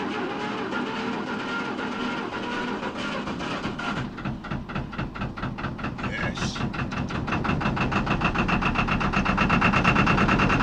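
Canal narrowboat engine turning over and catching, a loud rough diesel chugging that settles into a steady rhythmic thump and grows louder toward the end, wind and outdoor noise around it.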